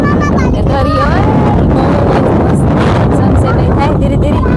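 Strong wind blows steadily at Chowpatty beach on the seaside, roaring into the microphone throughout, with people talking underneath.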